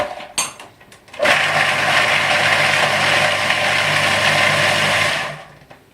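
Magimix food processor motor pulses through chickpeas for falafel, a loud steady whirring drone of about four seconds after a few short clunks, then cutting off.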